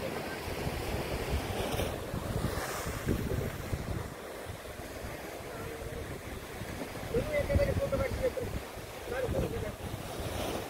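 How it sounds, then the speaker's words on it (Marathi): Sea waves roll and break against the walls of Sindhudurg Fort, a steady surging rush with swells, heavy wind buffeting the microphone and a voice talking over it. "बघू शकता असे किती मस्त मस्त असं लाटा येतात."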